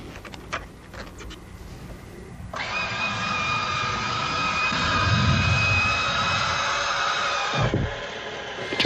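F-15E fighter jet engines spooling up for takeoff: after a few sharp clicks, a loud steady roar with a high whine sets in around three seconds and holds, swelling slightly midway, with no talk.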